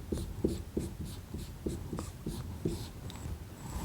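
Pen or marker strokes scratch out a math equation, giving a series of short, close scribbling bursts in an irregular rhythm, quiet and alone.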